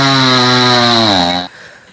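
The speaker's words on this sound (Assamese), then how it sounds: "তো লাহে লাহে লাহে লাহে মানে গছডাল কাটি আছে।" A chainsaw cuts into a large tree, its engine holding a steady, loud droning tone that sags slightly in pitch before abruptly cutting out near the end.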